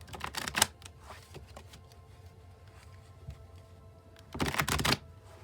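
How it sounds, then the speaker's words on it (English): A deck of tarot cards is shuffled and cut by hand: two loud bursts of riffling at the start and end, with quiet card handling between. "I'll shuffle till I feel like it's done, and then I will cut the deck and we'll deal right off the top"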